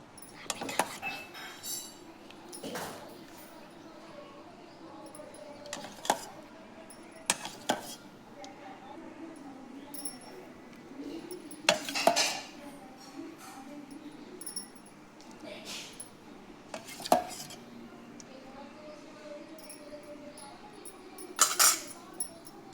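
Soap mixture stirred and poured into a silicone mold, with scattered close clinks and scrapes of a utensil against a container over faint background noise.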